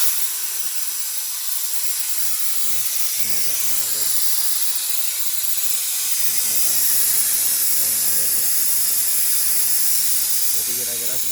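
Steady, bright hiss of an air compressor running during oil and filter servicing on a Chevrolet Captiva diesel, continuous and fairly loud, with someone speaking intermittently underneath.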